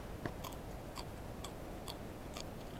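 Sharp, crisp crunches of a fresh Bush Blue Lake green bean being bitten and chewed close up repeat about every half second over a steady hiss.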